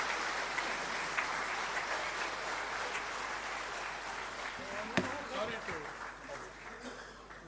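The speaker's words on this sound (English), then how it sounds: "Let us applaud for it." Applause from an audience at a live public event where a former Vice President of India speaks. The clapping is a dense, steady wash that continues throughout, somewhat distant, with a few sharper claps near the end.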